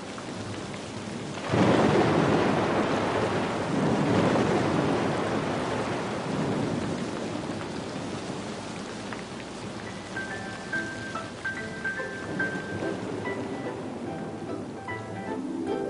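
Rain and thunder sound effect: a loud thunderclap breaks over steady heavy rainfall, then rolls off into a long rumble while the rain keeps pouring, with no voices.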